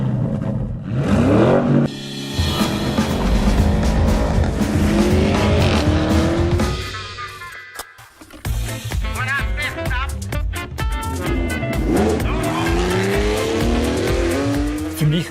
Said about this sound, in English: this central layout of the exhaust system allows us to generate a more emotional sound with an even higher